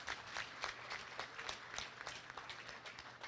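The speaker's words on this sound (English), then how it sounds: "let's give these 10-year members a nice big round of applause." Faint, distant audience applause at a county 4-H goat show, scattered clapping in a large venue.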